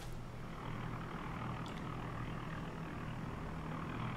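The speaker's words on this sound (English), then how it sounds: "Get on the plane, and let's get this show on the road." Propeller airplane engine in flight in the video game Fallout New Vegas: a steady, loud droning hum with a constant low tone throughout, heard alone without talk.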